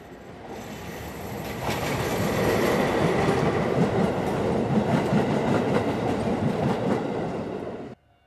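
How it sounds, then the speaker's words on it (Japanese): An empty JR freight train of rail-carrying wagons, hauled by a DE10 diesel locomotive from Inazawa toward Nagoya Port, rumbles past loud and close with steady clickety-clack wheel noise and some squeal, then cuts off abruptly. "稲沢から DE10 に牽引されて名古屋港を目指します。"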